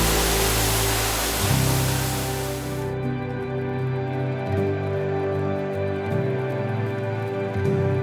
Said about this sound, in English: I would just spot the waterfall